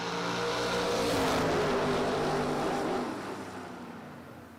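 Drag racing cars, a Camaro and a Chevy II, launch off the line with a loud sustained engine roar that builds, holds, then fades as they pull away, with no talking.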